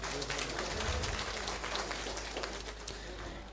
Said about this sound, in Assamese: সকলোৱে হাত চাপৰি দিয়ক।